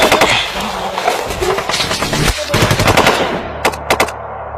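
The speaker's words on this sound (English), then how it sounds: "the Adam base came upon simultaneous fire from an unseen enemy" Machine gun fire from an unseen enemy in the Kargil War at a Ladakh post: loud sustained bursts of rapid shots, then a pause and a few separated sharp cracks near the end.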